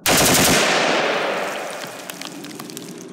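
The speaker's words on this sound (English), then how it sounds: "then we're gonna bump fire it again" Rapid bump-fire burst from a BCM 11.5 rifle fitted with a Geissele SD-3G trigger, a loud dense string of gunshots that rings out and decays with echo, ending in a faint final pop.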